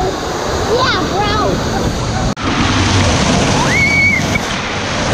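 Rushing water of a lazy-river style waterpark ride at Volcano Bay, a steady loud wash filling the scene from start to finish, with faint voices and whistle-like tones riding over the churn.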